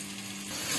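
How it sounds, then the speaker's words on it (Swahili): Onions sizzling in hot oil in a pan for githeri, a steady close frying hiss that swells slightly louder toward the end, with no voices. "unaweka mafuta kwa moto, mafuta na vitunguu viive"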